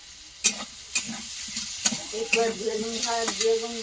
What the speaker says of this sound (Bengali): ঢাকাটা তুলে একটু ভালো করে কষিয়ে নেবো